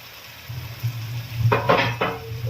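Red agathi flowers sautéing in a hot pan for a Kerala thoran, a steady close sizzle broken by a few quick bursts of scraping as a spatula stirs them, with no voices.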